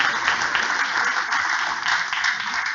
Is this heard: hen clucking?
no